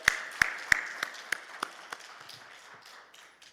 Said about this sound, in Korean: 우리 하나님 앞에 영광의 박수를 드립시다